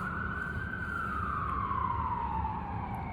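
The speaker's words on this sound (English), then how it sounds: "that's a sound of police" A police siren wails in the distance, one long tone sliding slowly downward over a faint rumbling background, fairly quiet and heard alone without voices.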